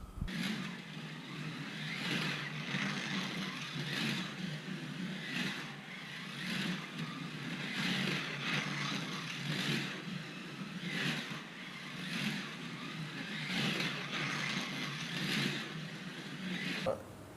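A car makes a quick run around a track on freshly trued tyres, its motor note steady and close with a rhythmic pulsing throughout and no pauses.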